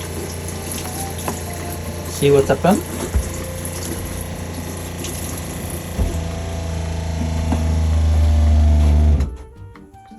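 A water pump on a caravan's water line runs with a steady mechanical hum under a person speaking, briefly louder near the end before cutting off abruptly, leaving near silence.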